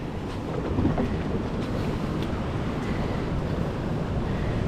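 Ocean waves crash along the shore in Goa with a constant, loud roar of surf. Heavy wind buffets the microphone throughout, and no voices are heard.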